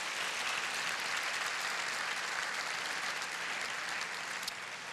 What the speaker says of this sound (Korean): 자, 우리 한번 박수 한번 해주시죠.